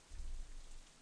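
Steady rain falls in the visual novel Katawa Shoujo, a dense, even hiss with a heavy low rumble beneath, constant throughout with no voices.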